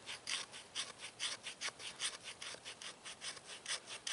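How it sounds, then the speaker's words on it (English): Metal belt buckle edge used as a scraper on a fatwood stick, making shavings. The scrapes come in a steady, rhythmic series of short, dry strokes, quiet and close, with no voices. "I'm able to make shavings or make fuzz off this stick."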